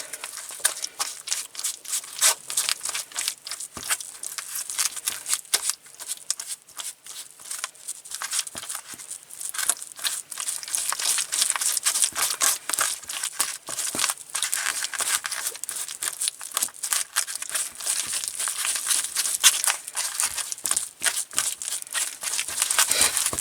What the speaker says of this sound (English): Just keep smashing. I like mine a little real smooth.